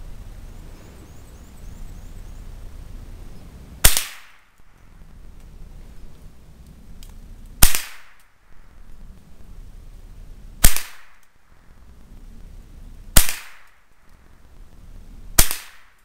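Savage .22 Model 62/64 semi-automatic rifle, brand new, firing .22 Long Rifle: five sharp, loud shots spaced a few seconds apart, each cracking over a low outdoor rumble with no talk.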